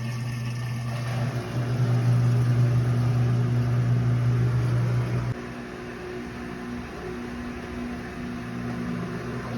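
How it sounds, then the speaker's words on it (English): Washing machine running its rinse cycle on a 12-volt solar power system, a steady motor hum that is louder early on, then drops to a lower, quieter drone partway through, with no talking. "So the rinse cycle has begun."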